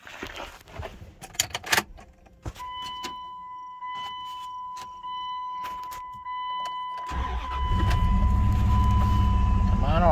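1999 Dodge Durango SLT left abandoned for 14 years, with clicks and a steady electrical tone, then the engine cranking over and catching into a loud steady run up close; a voice speaks near the start.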